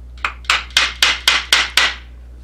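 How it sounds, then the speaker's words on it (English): Seven sharp, evenly spaced hammer blows drive a leather cutting fork through leather resting on a piece of wood, each strike a crisp close knock with a short ringing tail, no talk. "I just pound it in with a hammer on top of a piece of wood"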